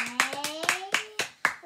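Children clapping their hands after singing, about six or seven sharp separate claps in a loose rhythm, close and fairly soft, with a voice or a sung tone running beneath.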